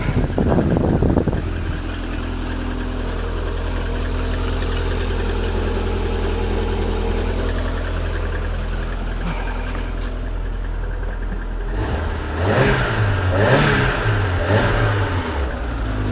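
MG F 160 VVC sports car engine idling steadily and loudly after 18 months in storage, then revved several times in quick blips near the end, recorded close by.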